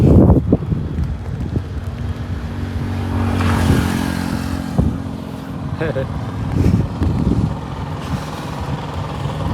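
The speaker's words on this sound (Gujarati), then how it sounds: "પવન તો આવે છે, પવન ચાલુ છે." Wind buffets the microphone in gusting rushes on a coastal road in Goa, heard from a bicycle, while road traffic rumbles and passes nearby.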